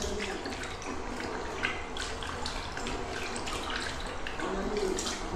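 Water runs steadily from a tap into a basin during cleaning, a continuous splashing hiss with faint clatter, fairly close, with a voice murmuring briefly in the background.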